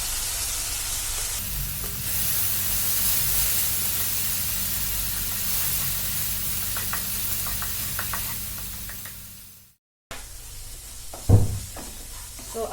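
Onion, ginger and garlic paste fries in oil for a chitol fish gravy with poppy and mustard seeds, giving a steady, close hiss that runs unbroken, cuts out briefly, then returns with a few knocks.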